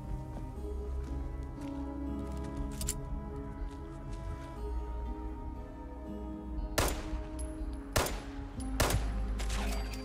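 Gunfire in the video game Fallout 76: a few sharp, loud shots near the end, sounding over a steady bed of game music and ambience.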